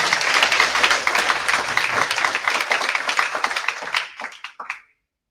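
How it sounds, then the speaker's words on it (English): Audience applause at an innovation and entrepreneurship awards ceremony, a dense wash of many hands clapping that holds steady for about four seconds, then thins to a few last scattered claps before falling silent. "A round of applause for Piccolo."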